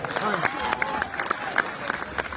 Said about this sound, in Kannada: ಜೋರೇ ಚಪ್ಪಾಳೆ ಹೊಡೀರಿ